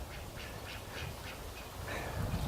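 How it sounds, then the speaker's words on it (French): Indian runner ducks quack beside a pond fed by a cattle drinking trough, a run of short nasal calls repeating at a steady pace, moderately close, with no talk over them. "ça c'est Duck qui sort le premier, Mistinguette en blanc, Daffy,"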